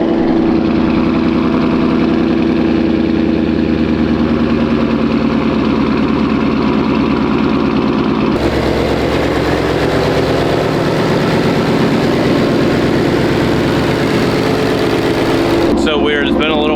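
Twin-turbo Mustang running on E85 with a Corsa Extreme exhaust and two mufflers, idling with a steady low rumble throughout while a person talks over it.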